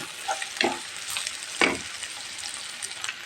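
Dried loitta fish (Bombay duck) sizzles in hot oil in a pan, with a few scraping stirs and clinks against the pan.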